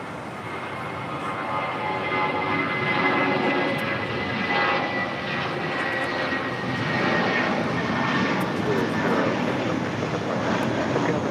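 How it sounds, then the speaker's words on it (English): A JetBlue Airways jet airliner taking off from LAX gives a loud, steady engine roar with a broad rumble and whine that holds for the whole stretch, close by and with no talk over it. "That was JetBlue Airways. Flight 806 taking off to Seattle."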